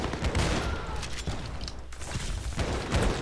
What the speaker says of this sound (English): it's a shotgun. It's a very solid shotgun